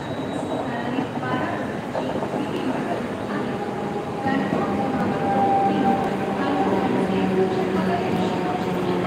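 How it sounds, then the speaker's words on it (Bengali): A train runs at a busy station near Tata Memorial hospital in Mumbai, a steady loud rumble of wheels and carriages with faint squeals, sustained over the whole stretch with crowd noise around it. "ট্রেন এইখানে সবসময় থাকে, আপনার একটা যায় একটা আসে,"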